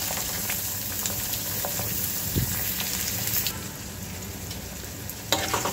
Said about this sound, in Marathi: याला आता आपल्याला छान परतून घ्यायचं आहे. याचा कलर छान गोल्डन ब्राऊन होतपर्यंत